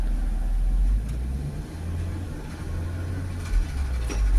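Car with a worn wheel bearing driving and accelerating, a steady low droning hum from the road and engine, moderately loud and continuous, with no one talking.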